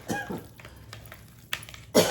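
A person coughs a few times while cooking seasoned chicken, short harsh bursts near the microphone with quiet kitchen sounds between them.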